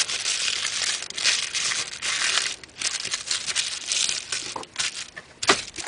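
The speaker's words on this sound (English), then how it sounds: "I just rip a piece off, crumple it up like this" Tissue paper is torn and crumpled by hand up close, giving bursts of crisp crinkling and crackling with short pauses between handfuls, and no talking.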